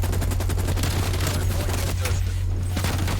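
Sustained automatic gunfire in the video game Call of Duty: Black Ops rattles loudly and continuously, with rapid overlapping shots and no pause.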